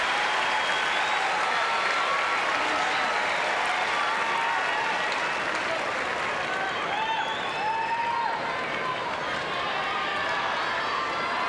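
Tennis crowd at the 1998 Lipton Championship final applauding in a sustained wash of clapping and murmuring that holds steady throughout.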